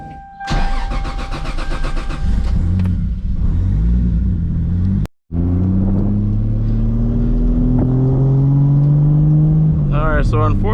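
A MKIV Toyota Supra starts and pulls away on the road, its engine cranking to life then rising and settling through steady revs up close, with a voice talking in parts over it.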